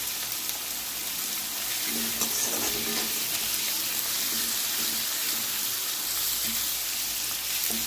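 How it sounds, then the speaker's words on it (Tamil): Onions and spices sauté in a pan for a mango fish curry with a dense, continuous sizzle like light rain, broken now and then by faint stirring scrapes. The frying is loud and near, with no voices over it. "இப்போ நல்லா வதங்கிக்கிட்டு இருக்குது."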